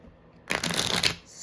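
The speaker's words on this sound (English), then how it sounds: "I am using my Botticelli deck because it's small and I can shuffle it." A small Botticelli tarot deck is riffled in one quick, crisp burst of card flutter lasting about half a second, close and alone.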